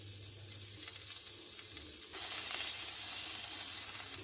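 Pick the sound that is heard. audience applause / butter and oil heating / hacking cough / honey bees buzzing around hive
butter and oil heating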